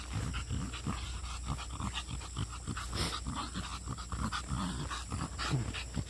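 An exotic bully dog pants rapidly and steadily during a walk, its quick rhythmic breaths close and continuous over faint background hiss, with no voices.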